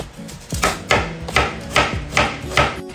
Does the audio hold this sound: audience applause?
no